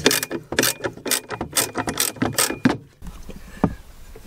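A 13 mm wrench loosening the battery terminal nut on a Fiat Ducato van, a close, rapid series of sharp ratcheting clicks for about three seconds, then quieter handling noises.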